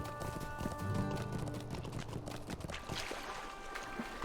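Horse hoofbeats clip-clop in a steady rhythm from a mount in the LOTRO video game, mixed with busy game ambience and no talk.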